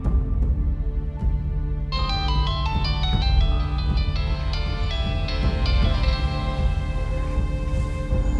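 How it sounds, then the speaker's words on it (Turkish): A melodic electronic ringtone enters after a couple of seconds and keeps chiming in a repeating pattern over a dense musical backdrop. "Aç telefonu önemli."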